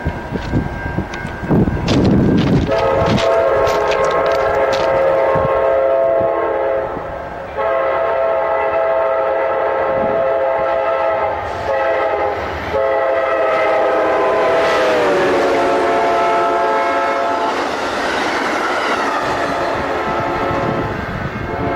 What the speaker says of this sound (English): Train action there.